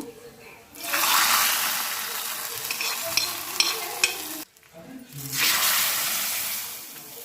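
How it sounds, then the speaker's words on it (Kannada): Oil sizzles loudly in a pan as mustard seeds, cumin, garlic, curry leaves and dry chillies go in for a tempering over radish sambar, a bright hiss with small crackles that drops out briefly, then swells again. "ಒಂದು ಪ್ಯಾನ್ಗೆ ಸ್ವಲ್ಪ ಎಣ್ಣೆ ಸಾಸಿವೆ ಜೀರಿಗೆ ಬೆಳ್ಳುಳ್ಳಿ ಮತ್ತು ಕರ್ಬೇವಿನ ಸೊಪ್ಪು ಒಣಮೆಣಸಿನ್ಕಾಯಿನ ಹಾಕಿ ಸಾಂಬಾರಿಗೆ ಒಗ್ಗರಣೆ ಹಾಕಬೇಕು"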